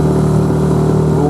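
A boat motor on a river hunting trip in Komi runs with a steady, loud droning hum and bubbling, though it is not pulling well. The pitch stays level and close throughout, with no break.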